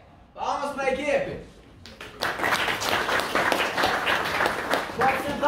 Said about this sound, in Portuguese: Palmas para a equipe!